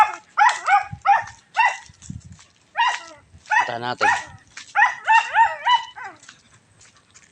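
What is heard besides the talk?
dog barking and whining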